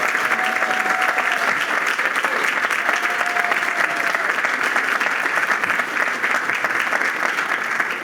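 Large audience at a theater groundbreaking ceremony giving sustained applause, dense and even throughout, with a faint voice or whistle briefly rising above the clapping.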